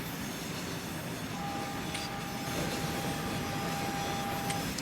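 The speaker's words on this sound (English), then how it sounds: "This train is going backwards for some reason." A freight train in the Transport Fever simulation game rolls along steadily with a continuous rumbling rail noise, a thin sustained squeal and faint metallic clicks, with no voices.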